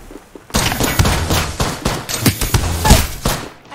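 Gunfire in the video game Apex Legends, a close, loud burst of rapid shots with thumping impacts directed at the player, continuing for several seconds.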